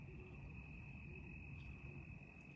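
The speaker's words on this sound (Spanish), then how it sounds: "Es un búho, ¿no? Búho o lechuza." An owl hoots at night along a dark trail, faint low hoots repeating about three times over a steady whine of insects and background hum.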